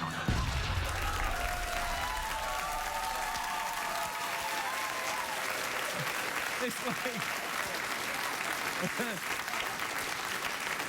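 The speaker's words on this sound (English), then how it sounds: "You're not helping by applauding." Studio audience at a late-night talk show applauds steadily and loudly for the full stretch, with cheers rising over the clapping and a voice speaking over it near the end.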